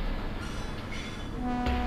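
A train approaching in the horror game Thomas the Shank Engine, a low rumbling rail drone with a sustained horn-like tone swelling near the end, alone without talk.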